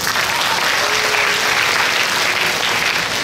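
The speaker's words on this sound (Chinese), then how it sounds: "掌声。" Steady, dense applause from a school audience fills the air at a student presentation on an interactive Rubik's cube project, loud and continuous without a break.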